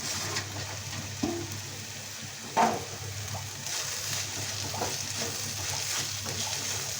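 Masala with crushed green chili, red chili and coriander powder roasts in a pan as filling for stuffed bitter gourd, a soft, steady sizzle broken by a few sharp clinks of a spoon.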